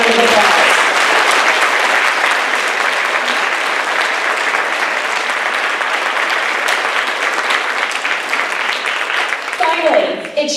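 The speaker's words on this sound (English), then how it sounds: "Please go ahead and give them a big round of applause." A school board meeting crowd claps in sustained, dense applause for about ten seconds, loud and steady before tapering off at the end.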